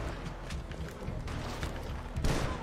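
Rifle gunfire in Red Dead Redemption 2 during a shootout at a bank: dense, continuous crackle of shots and booms with a louder burst near the end, no talk.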